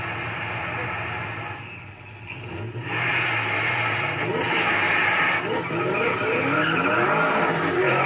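Race cars, a Pontiac GTO and a BMW M8, roar and screech with tire squeal and revving engines, loud and steady throughout with rising intensity toward the end.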